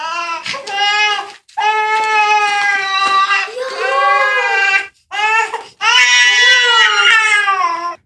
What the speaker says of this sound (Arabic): سمع صوت بيبي عم يبكي